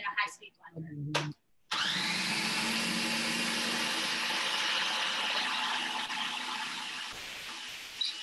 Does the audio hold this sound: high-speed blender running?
yes